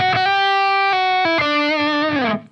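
Electric guitar with distortion playing the opening notes of The First Noel as a short melodic phrase of sustained, ringing single notes, close and loud, ending with a quick fade.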